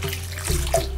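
Water is poured a little at a time into a kadai holding green chillies on a stove, a short close splashing and hissing trickle against a steady low hum.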